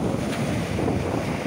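Stormy sea surf and strong wind buffeting the microphone at Agia Anna beach in Greece during a winter storm with snow, a steady loud roar of breaking waves with no voices.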